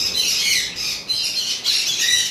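Conure parrots at a bird sale give harsh, shrill squawks in three rough bursts over about two seconds. The birds sound close and moderately loud.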